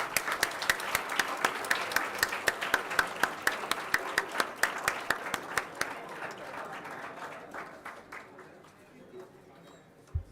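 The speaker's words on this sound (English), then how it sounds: "Can we please have a big round of applause for all of our dignitaries?" Applause for dignitaries at a pharmacy school induction program, many sharp claps in a dense crowd sound that stays loud for several seconds, then thins and fades toward the end.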